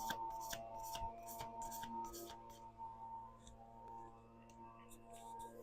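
A deck of cards being shuffled, with a quick series of riffling snaps followed by softer handling sounds, close and fairly quiet, without talk.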